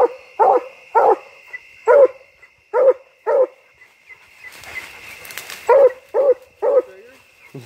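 A black and tan coonhound treeing at an old locust tree gives loud, deep barks in a steady rhythm, about ten in all, with a short gap partway where a rustle and a faint voice come through.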